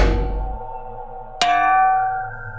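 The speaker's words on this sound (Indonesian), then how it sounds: "Itu adalah suara mesin cetak Heidelberg tua." An old Heidelberg printing press gives a sharp metallic clang like a hammer striking an iron lever, ringing out alone after a fading low rumble.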